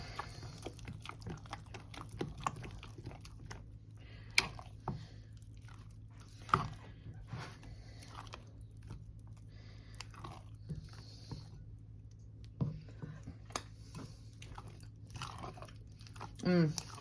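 Someone chews homemade baked mac and cheese while tasting it, with soft, close, irregular biting and mastication sounds over a low steady background hum.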